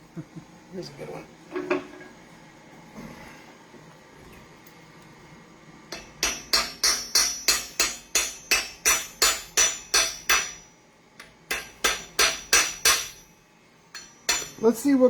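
Scrap metal being hammered into a pre-formed ring rings out in rapid, evenly spaced sharp metallic strikes, two long close runs with a brief pause between, after a quiet start with light handling clatter.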